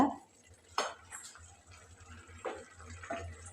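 Gram flour batter being stirred into vegetables for kadalai maavu kurma in a metal pot, heard as a few sharp spoon scrapes and clinks against the pot, spaced apart over a quiet low kitchen hum.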